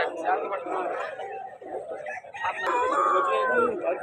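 A prized fighting rooster at the Vijayawada rooster market crows and clucks amid a busy crowd, with people talking nearby and the calls rising over the chatter.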